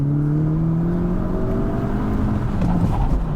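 Hyundai Elantra N sport compact sedan engine revving on a race track, loud and close, a sustained whining drone that climbs in pitch as the car accelerates.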